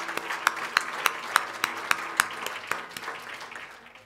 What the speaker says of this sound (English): you got a very, very good applause here